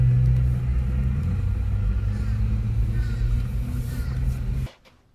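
A car rolls through a fast food drive-through, its engine a steady low rumble heard from inside that continues evenly before cutting off abruptly near the end.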